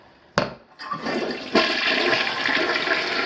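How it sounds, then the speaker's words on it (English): A toilet is flushed in a home bathroom during a plumbing inspection. A sharp click of the handle leads into a surging rush of water that swells and keeps roaring steadily to the end, with no talking. "Commode flushes, everything goes down, supposed to go down."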